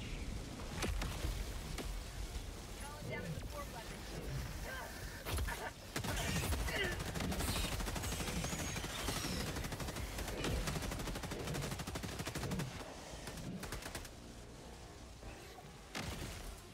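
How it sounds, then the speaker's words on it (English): Orbital laser strike firing in the Helldivers 2 video game, a long sustained blast of searing, crackling energy with repeated booming impacts and gunfire-like bursts, loud and continuous, with voices heard over it. "Firing orbital laser."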